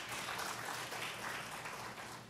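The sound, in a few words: church congregation applauding in welcome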